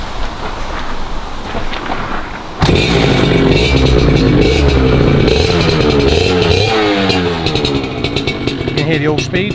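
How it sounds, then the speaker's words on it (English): A dyno-tuned 1990 Kawasaki AR50 C7 motorcycle fires up abruptly after a few seconds of background noise, then settles into a loud, buzzy two-stroke idle with rising and falling revs close by. "I'm going to start the bike now."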